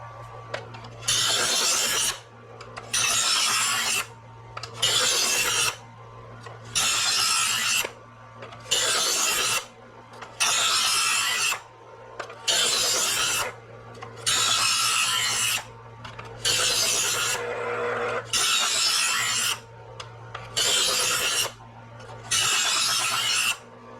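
A knife is drawn again and again through a knife sharpener to raise a burr, each pull a loud rasping grind of about a second, repeated steadily a dozen times with short quiet gaps between.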